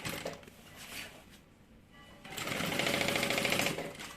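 Sewing machine stitching along the edge of a bag's lining, a short burst of close mechanical rattling, a brief pause, then a longer, louder run of steady stitching.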